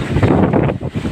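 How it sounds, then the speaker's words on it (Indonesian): Strong, dangerous wind gusting loudly and continuously against the microphone, a rough roaring buffet with brief dips, heard alone without talk. "Angin kencang, sangat berbahaya sekali."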